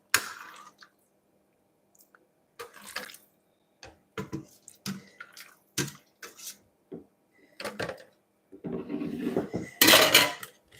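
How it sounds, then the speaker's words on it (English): Pots, pans and cutlery clatter in separate bursts of clinks and scrapes while cooked food is transferred into a blender, with a louder watery clatter at the end. "Just going to transfer everything to the blender."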